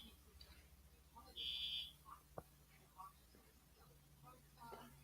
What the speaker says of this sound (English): Oh no, that was the fire alarm.